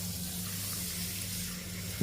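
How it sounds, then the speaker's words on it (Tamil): Water is poured into a bowl of ragi (finger millet) grains in a home kitchen, a faint, steady splashing rush under a low background hum. "பாத்திரத்தில் இதை நல்லா தண்ணி ஊற்றிக்கிடுவோம்."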